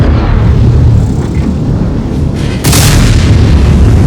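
An E100 heavy tank's main gun firing in a tank video game, one loud booming shot over constant engine rumble and battle noise, with no voice.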